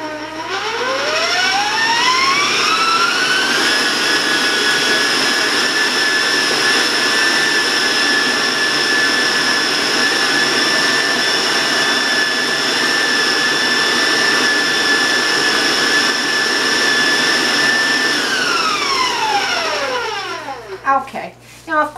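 An electric mixer creams coconut cookie batter at high speed, a loud steady whine that rises in pitch as the speed goes up, holds for a long stretch, then winds down at the end.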